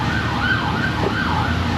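Wailing fire truck siren sweeping up and down in repeated cycles, loud and steady over a continuous road rumble, with no talk.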